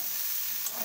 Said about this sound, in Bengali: এবার আমি আলুগুলো ভালো করে ভেজে নেব।